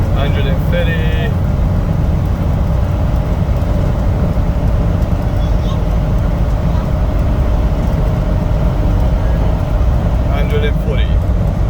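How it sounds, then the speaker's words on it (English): A remapped Land Rover accelerates hard on an open road in sixth gear, its engine a loud, steady droning rumble with heavy road and wind noise heard from inside the cabin. "Still accelerating, 6 gear, 120, still going quite comfortably"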